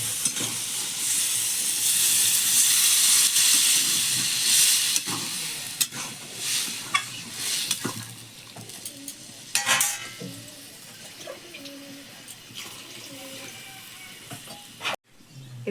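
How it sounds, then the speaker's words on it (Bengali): Water poured into a hot frying pan of snail (googli) curry bursts into loud hissing sizzle and steam, settling into softer bubbling broken by scraping stirs of the spatula. "এবার জল দিয়ে দিচ্ছি"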